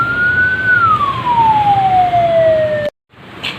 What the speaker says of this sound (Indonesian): Biasanya sirene WL1 ini digunakan oleh driver-driver ambulan atau driver mobil jenazah ketika mengangkut jenazah.